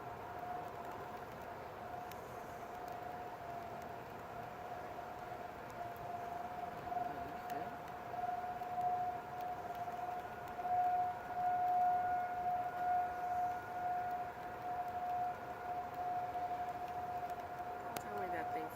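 A Thunderbolt 1000T tornado siren in Grosse Pointe Woods, Michigan, sounding a December test: a steady, sustained wailing tone carried from a distance over a constant background hum for the whole stretch.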